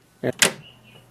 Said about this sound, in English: Now close the ink cartridge chamber door.